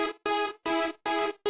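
A bright, buzzy, saw-like Serum synth plays a counter melody for a jerk-style beat. Four choppy, repeated notes come with short gaps between them, clear and alone, with no talk.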